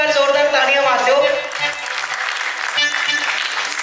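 A theatre audience at a Sikh arts and film festival in India bursts into loud, sustained applause, with a voice speaking over the clapping at the start.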